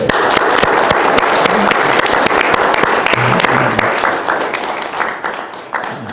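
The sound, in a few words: audience applause at forum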